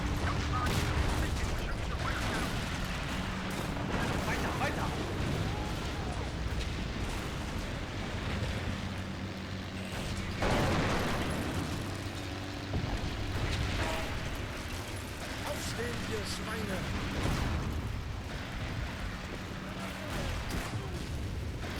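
Dense, continuous battle noise from the WWII strategy video game Sudden Strike 2, with rattling gunfire and booming explosions packed together at a steady loud level, and voices mixed into the din.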